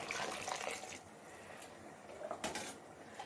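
Water is poured by the tumbler into a pot for a Chettinad-style vegetable rice biryani, several faint splashing pours in quick bursts with short gaps, quiet and close.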